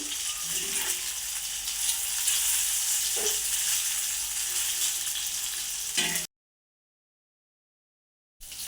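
Fish fry in a pan with only two spoons of oil over a low gas flame, giving a steady, close, dense sizzle that cuts to silence for about two seconds near the end before resuming.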